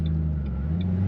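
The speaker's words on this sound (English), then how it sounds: "Let's wait till this one car goes by" A single passing car drives by at a steady distance, its low engine rumble and tyre noise holding level for about a second, a rolling hum with no voices over it.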